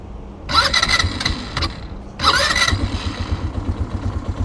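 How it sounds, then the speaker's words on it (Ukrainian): A Mikilon Wolf 200 quad bike engine cranks with a short burst, stalls briefly, then catches on a second start and settles into a steady, close, loud idle with a rhythmic low putter. "Ось так він заводиться, працює дуже чудово."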